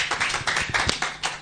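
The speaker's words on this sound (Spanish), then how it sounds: "dale fuerte ese aplauso al Señor" Church congregation clapping for the Lord, a brief burst of quick, sharp hand claps close by, uneven in rhythm.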